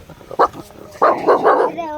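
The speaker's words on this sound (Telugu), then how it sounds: "ఇక్కడ ఒక కుక్క అయితే ఉంది. మేము వెళ్ళగానే మమ్మల్ని చూసి మా మీదకి అయితే అరుస్తుంది." A dog near the Maa Ori waterfall barks at approaching visitors: one sharp bark, then a quick burst of three or four loud, close barks ending in a brief whine.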